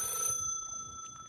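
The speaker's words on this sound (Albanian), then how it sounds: "E, marë telefon." A telephone bell ringing indoors, a steady tonal ring heard clearly at close range for a short moment with no talk over it.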